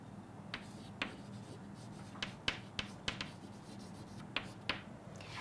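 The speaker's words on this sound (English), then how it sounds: "let me just write it over here" Writing on a board during a chemistry lesson: a run of quick, light scratchy strokes and taps, each short and crisp, spaced irregularly over a low steady room hum, with no talking.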